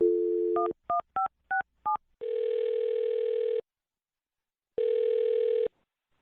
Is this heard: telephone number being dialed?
yes